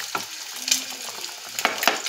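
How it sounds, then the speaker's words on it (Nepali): Chicken kofta curry cooks in a pan with a close, continuous sizzle and bubbling, broken by a few sharp scrapes or stirring clicks. "हेर्दै गर्नु होला चाहिँ मेरो मजाले उम्लिन्छ नि मेरो कोफ्ताको।"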